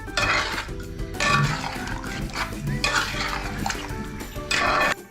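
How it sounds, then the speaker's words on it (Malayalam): Ground coconut being stirred into a chicken-vegetable kurma in a Kerala kitchen, with repeated scraping strokes of a spoon against the pot over a low simmering bed, close and steady, no voices. "നമ്മൾ അരച്ച് വെച്ചിരിക്കുന്ന തേങ്ങ ഒഴിച്ച് കൊടുത്തിട്ടുണ്ട്. ഒന്ന് മിക്സ് ചെയ്യണം."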